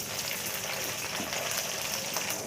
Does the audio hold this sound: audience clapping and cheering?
no